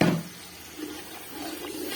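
Water is poured into a pot of fried peas, producing a brief splash and then a steady hissing gurgle as the liquid meets the hot pan.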